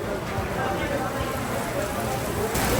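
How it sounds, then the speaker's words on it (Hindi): Heavy rain falling on the roads around Masjid al-Nabawi in Madinah, a dense, loud, continuous patter and hiss of drops hitting the ground up close. "भाई क्या बारिश लगी हुई है,"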